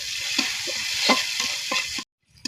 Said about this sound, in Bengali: এবার দিয়ে দেবো পেঁয়াজ কুচি আর দিব চার পাঁচটা কাঁচা মরিচ ফালি এবার এগুলো দিয়ে আমি এক মিনিট ভেজে নিব